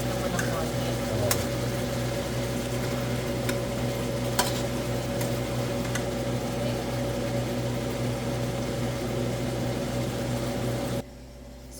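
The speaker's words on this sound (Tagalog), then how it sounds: "medyo ipiprito-prito mo ng konti" Chicken pieces fry in a pan for pininyahang manok, giving a steady, even sizzle and hiss that runs unbroken for about eleven seconds before cutting off abruptly.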